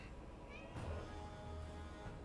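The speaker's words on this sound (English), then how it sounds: "the cat maybe want to be fed" A house cat meows a few times, faint and fairly distant, over a steady background hum.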